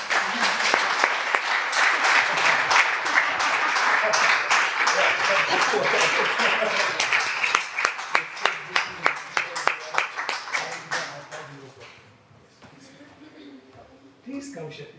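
An audience applauds at a holistic yoga event, loud and dense at first, then thinning into separate claps that fade out, followed by a brief voice near the end.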